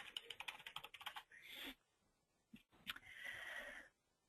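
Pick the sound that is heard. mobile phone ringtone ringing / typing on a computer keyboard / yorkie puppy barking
typing on a computer keyboard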